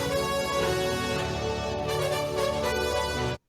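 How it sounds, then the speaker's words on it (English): A 1980s synthesizer melody from a pop song plays loud and steady with dense sustained harmonics, running unbroken for about three seconds before cutting off abruptly. "That synthesizer melody is one of those things that is the 1980s in sound."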